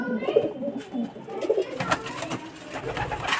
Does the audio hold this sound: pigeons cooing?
yes